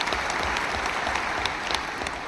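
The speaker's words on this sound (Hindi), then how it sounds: "आप सभी की तालियों की गड़गड़ाहट हो जाए।" Audience applause at a national water awards ceremony, a steady, dense wash of clapping filling the hall continuously with no voices over it.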